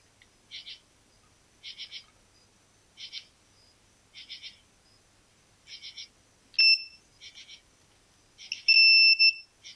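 Beeps from a multimeter in continuity mode, used on electronics lab lighting wiring: short paired tonal chirps repeating about every second and a half, then longer, louder sustained tones near the end, with no talking.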